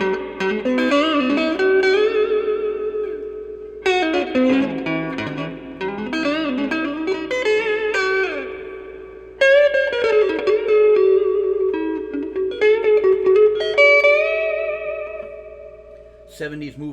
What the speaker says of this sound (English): Let's bury it and see what the reverb does.